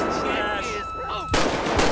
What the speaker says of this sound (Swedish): hon skjuter med något automatiskt tror jag